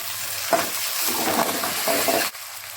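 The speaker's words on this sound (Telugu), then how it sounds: "కొంచెం మెంతాకు వేయండి, వేసి కొంచెం వేపుకోండి." Fenugreek leaves fry in a pan with a loud, close, continuous sizzle, with stirring strokes and a brief scrape near the end.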